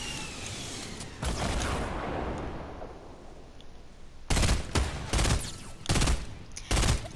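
Gunfire in a shooter video game: a sustained roaring burst at the start, then several loud, sharp volleys of automatic fire in quick succession, close and punchy.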